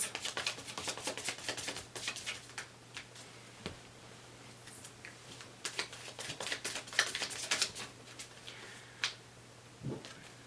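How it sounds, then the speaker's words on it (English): Rapid papery riffling and soft slaps of tarot cards being shuffled repeatedly, close and fairly quiet, in uneven bursts. "I'm going to give the cards a really good shuffle"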